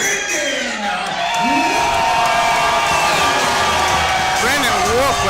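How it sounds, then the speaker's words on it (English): A large crowd roaring and cheering at a fight event, a loud sustained wall of noise with whoops and shouts rising over it, and an announcer talking throughout. "Wolf with a huge crowd here"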